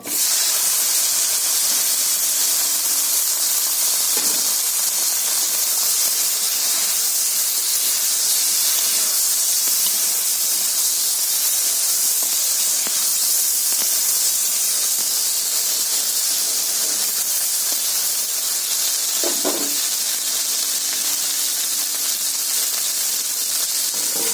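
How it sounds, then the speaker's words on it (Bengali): Okra frying in hot oil for a fish recipe gives a steady, loud hiss like steam. It holds nearly even throughout, with a couple of brief louder bursts and no talking. "এই ভাজা তেলের মধ্যে আমি ভেন্ডিগুলো ভেজে নেব"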